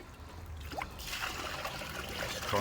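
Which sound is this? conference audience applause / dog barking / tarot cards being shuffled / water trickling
water trickling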